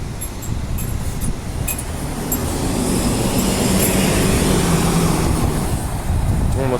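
A city bus heading to Perth Busport rumbles past at close range, a steady broadband engine and road roar that swells in the middle and stays loud throughout, with no one talking.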